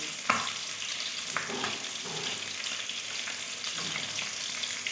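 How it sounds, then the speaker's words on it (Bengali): Fish fries crisply in hot oil with a steady close sizzle and crackle, with occasional light scrapes and bumps and no talking. "এবার তেল গরম হয়ে গেছিলো আমি মাছগুলো দিয়ে দিয়েছি সুন্দরভাবে মুচমুচে করে ভেজে নেবো"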